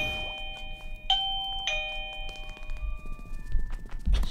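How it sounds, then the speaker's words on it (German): In-game doorbell from The Legend of Zelda: Link's Awakening, two bright ding-dong chimes ringing out clearly, followed by softer tones and background game sounds, with no talking. "Ich glaube, es wurde gerade hier geklingelt."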